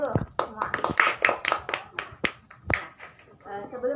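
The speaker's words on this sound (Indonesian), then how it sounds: "Kita tepuk tangan dulu semua." A group claps hands together in a quick, uneven burst of sharp claps for several seconds, close and lively, in a classroom.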